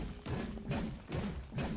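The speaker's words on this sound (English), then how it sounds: "the sound of this pickaxe, it just sounds big" The Vanquisher pickaxe in Fortnite strikes the ground repeatedly, four heavy, booming metallic thuds in an even rhythm about half a second apart, fairly quiet and with no talk over them.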